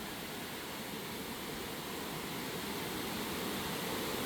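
A clear river flowing near Mouse Creek Falls in the Smokies gives a steady, broad rushing hiss of moving water, even and unbroken, with no voices.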